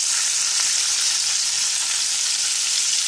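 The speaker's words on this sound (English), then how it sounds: "I'm going to let those cook for 5 more minutes on that side" Chicken breast frying in a pot for Cajun chicken Alfredo, a loud, even, unbroken sizzle heard alone and close.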